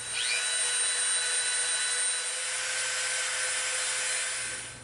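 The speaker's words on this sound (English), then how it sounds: "now we'll bring our smooth bit in and we're going to shape it a little bit more and smooth it out" A rotary tool fitted with a smoothing bit grinds and shapes EVA foam, giving a steady high-pitched whine with a faint abrasive hiss. It runs close and alone for about five seconds, easing off slightly toward the end.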